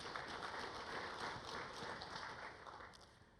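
Conference panel audience applauding to welcome a panelist, a steady, fairly faint patter of many hands clapping that fades slightly toward the end.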